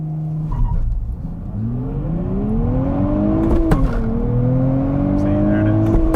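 A 2023 Nissan Z sports car accelerates hard, its engine note climbing steadily, dropping sharply at a gear shift, then rising again, loud and close with a faint tire squeal.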